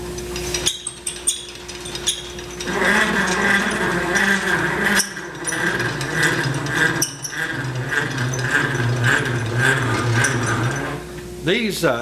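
A large wood planer rolls along on its casters, giving a steady mechanical rumble and clatter that runs for several seconds with brief knocks and pauses, fairly close and loud.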